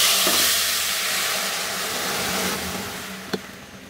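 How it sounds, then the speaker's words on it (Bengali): Lentils hit a hot garlic tempering for coconut-milk masoor dal, giving a loud, dense hissing sizzle that slowly eases off, with one sharp clink of a utensil near the end. "এই রসুনগুলা বাদামি হয়ে আসলেই আমি এখন এর মধ্যে এই ডালগুলাকে এর মধ্যে ঢেলে দিব"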